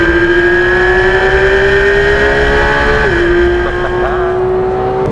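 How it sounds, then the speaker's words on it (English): Porsche 991 GT3 with a naturally aspirated flat-six revving hard, a loud close steady howl with a brief dip partway through as it shifts, then climbing again, with no voices over it. "When you don't have those turbos, you get that raw mechanical engine sound."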